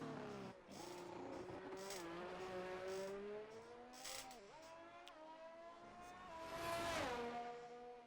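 Race car in a racing video game crossing the line at Circuit Gilles Villeneuve in Canada during qualifying, its engine revving high through rising and falling gear changes, loud and close, with a brief tire squeal and a swelling pass near the end.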